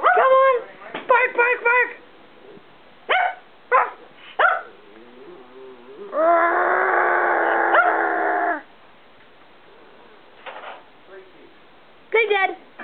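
Shiva, a pet dog, gives a few short barks on command near the mic, separate bursts with pauses between them, while an owner's voice talks and coaxes around them.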